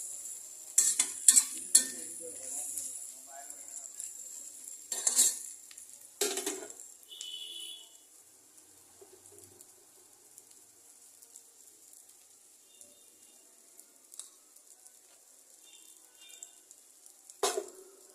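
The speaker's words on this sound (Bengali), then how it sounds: "দেখুন আপনার শুটকিটা ভালো মতো ভুনা হচ্ছে কিনা।" Dried fish (shutki) fries in a pan, a sharp sizzle that flares and fades with bursts of scraping and clinking as a spatula stirs it, then long quieter stretches of soft frying.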